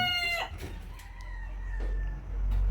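Indio Gigante Polaco chickens, a hen among them, make close clucks and short crowing calls over a steady low background hum, with a few separate bird calls across the moment.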